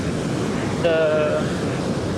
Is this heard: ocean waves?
yes